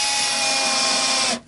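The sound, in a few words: drilling into a new piece of timber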